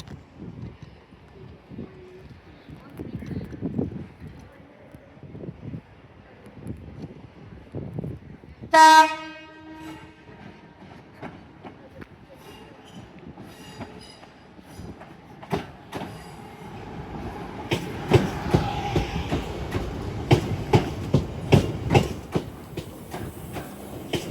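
A loud, brief train horn blast sounds once amid rail noise at Manchester Piccadilly station, followed by rumbling and clattering wheels as a train passes nearby.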